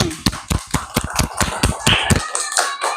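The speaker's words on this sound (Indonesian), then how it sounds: "Nah, tepuk tangan dulu buat temannya." Classmates in a school classroom clap their hands together in a short burst of close, sharp claps with an uneven rhythm, fading after about two seconds into quiet room tone with a faint voice.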